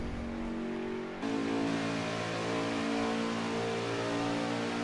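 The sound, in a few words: race car engine revving in a racing video game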